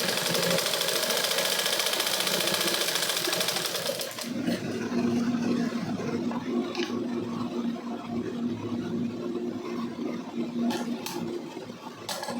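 A sewing machine runs in a steady, fast mechanical stitching whir as old pants are sewn into shorts. There is a brief pause partway through, then it keeps running, close and loud, with no talk.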